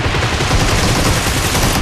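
Dense, rapid gunfire from the PUBG Mobile video game, a loud continuous burst of overlapping shots that fills the whole moment with no voices over it.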